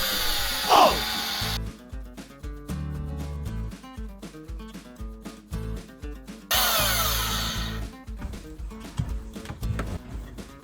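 A power drill bores counterbores into a wooden board for a camper van DIY job, whining in close, fairly loud bursts broken by clicks and handling noise.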